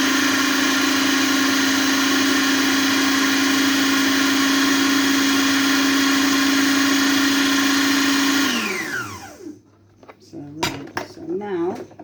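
A blender mixes a homemade sanitizer with alcohol, its motor whirring loud and steady before spinning down to a stop, followed by a few faint clinks and knocks.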